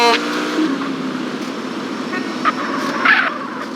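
A car horn in GTA San Andreas gives a few short toots over loud, continuous engine and traffic noise.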